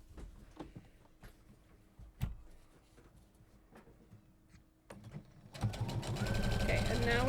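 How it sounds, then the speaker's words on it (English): A sewing machine stitches the middle crease of a tote bag's slip pocket, starting partway through and running as a loud, continuous whirring hum after scattered handling clicks. "now we're just sewing that middle crease that we made for our slip pocket"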